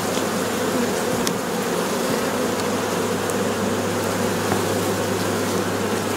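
Honeybees buzz steadily in an open hive being readied for winter, a dense, continuous drone close by with a low hum underneath and a few faint clicks, no voices.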